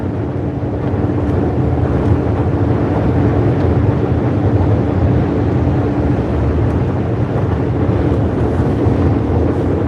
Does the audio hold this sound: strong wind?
yes